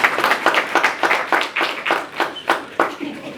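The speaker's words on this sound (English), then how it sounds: "Can we give him an applause?" Audience applause at a certificate program ceremony, a short burst of close, rhythmic hand clapping with distinct individual claps repeating about three times per second.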